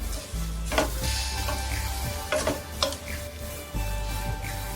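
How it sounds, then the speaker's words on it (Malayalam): Vermicelli roasts in ghee in a pan, with a steady sizzle broken by several scraping stirs of a utensil, close and continuous without any voices. "അതേ നെയ്യിൽ തന്നെ സേമിയം വറുത്തെടുക്കുക. നല്ലവണ്ണം ഒന്ന് ലൈറ്റ് റെഡ് കളറിൽ വറുത്തെടുക്കുക സേമിയം."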